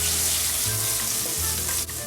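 Olive oil and about two tablespoons of butter sizzle and fry in a heated saucepan, a steady close hiss with faint crackles, heard alone without talk.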